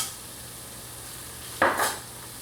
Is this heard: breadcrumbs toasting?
yes